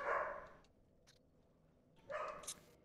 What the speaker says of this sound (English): Stop making him bark.